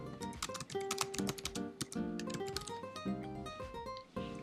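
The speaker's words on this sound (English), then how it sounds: "and then begin typing." Rapid clicking of keys on a computer keyboard, close up and continuous, with a faint steady tone humming underneath.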